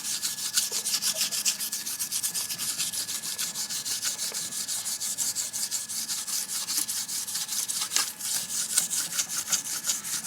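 A gray scuff pad soaked with brake cleaner scrubbed back and forth over the surface of a K24 oil pump, rapid rhythmic rasping strokes close to the microphone, steady and continuous with no talk.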